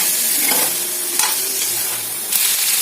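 Mutton curry with turmeric being stirred in a pan, a steady close sizzle with scraping strokes of the spoon throughout and no voices.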